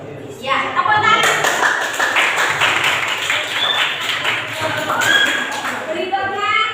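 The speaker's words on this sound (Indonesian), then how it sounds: "Ya, tepuk tangan." A classroom of students claps together in a quick, rapid burst of hand claps lasting several seconds, with young voices calling out over the clapping before it tapers off.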